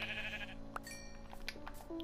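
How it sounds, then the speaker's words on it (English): Minecraft sheep bleating in short, nasal bursts, one clear call near the start and a few softer bleats following, set over a steady game-world background with faint chimes. "I've got to kill this sheep."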